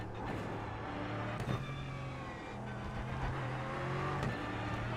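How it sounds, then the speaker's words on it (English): Aston Martin Vantage Evo GT3 race car in the iRacing video game, its engine droning steadily with several abrupt gear-shift breaks and pitch changes, close and loud with no talking. "The first thing you'll notice about this car is that it sounds really, really good, I think. Especially on like the gear shifts."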